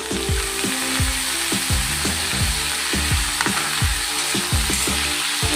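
Sliced potatoes frying with onions in a pan, a loud steady sizzle broken by rhythmic scraping strokes of a spatula stirring the mix, close and continuous without talk.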